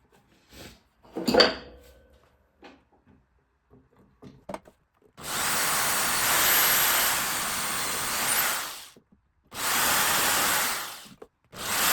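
Power drill boring holes for wall anchors and pins, two sustained loud whirring bursts of several seconds each after a stretch of light handling clicks and knocks.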